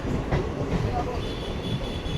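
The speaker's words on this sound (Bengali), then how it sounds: "আর এখন আমাদের ট্রেন এন্ট্রি করছে হাবড়া স্টেশনে" A Kolkata to Dhaka passenger train pulls into Habra station, its carriages rumbling and rattling steadily with a continuous mid-loud noise throughout.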